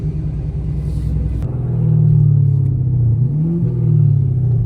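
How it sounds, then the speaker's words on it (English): A catless Chevrolet Camaro SS V8 engine rumbles nearby and revs up twice, the deep growl swelling and easing with no talking. "Y'all hear that V8?"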